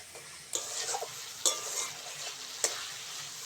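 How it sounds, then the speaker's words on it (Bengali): Chopped tomatoes fry in a pan for dal with a steady, moderate sizzle, broken by a few sharp spatula knocks and stirring scrapes against the metal. "টমেটোটা ভালো করে ভেজে নেব"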